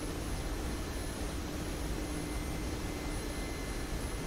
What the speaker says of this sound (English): the helicopter is going to start turning to the right